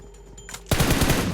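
Rapid automatic gunfire in the PUBG Mobile game bursts out suddenly after a quiet moment, loud and sustained.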